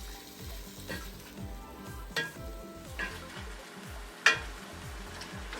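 Pork minudo sizzles and fries in a pan while being mixed, with a continuous close crackle and a rhythmic low scraping of the utensil against the pan repeating about every half second.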